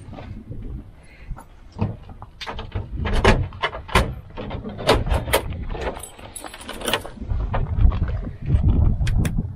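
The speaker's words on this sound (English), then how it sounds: "I'll open that side compartment up." A side compartment on a Tacoma pickup with a drawer system is opened, giving a series of clunks, latch clicks and sliding scrapes in quick, irregular succession, close and fairly loud.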